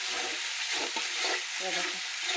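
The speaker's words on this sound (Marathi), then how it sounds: "बघा कसा भाजलाय मसाला" Masala spices roast and sizzle in a hot pan, with a spoon scraping and stirring through them in short, uneven strokes; steady frying hiss throughout, close and moderately loud, no talking.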